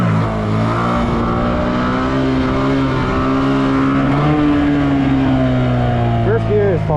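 A motorcycle engine runs in first gear at a steady, loud, close drone that rises slightly in pitch toward the end, with the rider's voice speaking over it.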